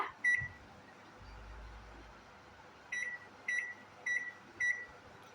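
Microwave oven being closed and started, a faint thud followed by a series of four or five short, high electronic beeps in a quiet kitchen with a low hum underneath.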